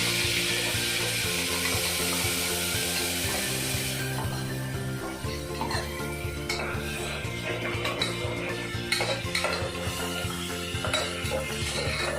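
Steady sizzling of spice paste sautéing in a pan with repeated scraping and stirring strokes, fairly close, with no one talking.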